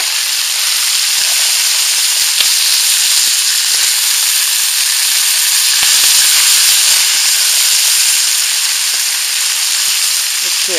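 Pieces of fish, some thick, fry in a pan over a campfire, giving a steady close sizzle and hiss with faint scattered crackles throughout.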